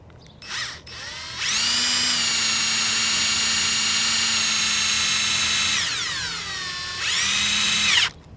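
A power drill whines at high speed in several bursts while fixing a fence without pre-drilled holes: a short spin, a long sustained run, then another brief burst, loud and close.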